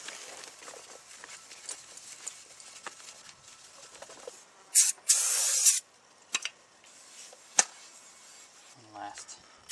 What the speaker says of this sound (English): You might want to go ahead and run some brake cleaner on your new rotor